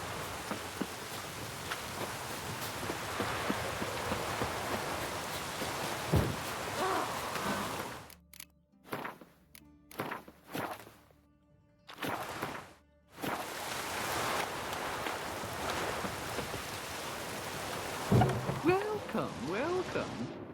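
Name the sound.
rain falling in the video game The Witcher 3: Wild Hunt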